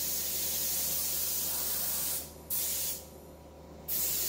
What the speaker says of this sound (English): Go ahead and just spraying that on in this step.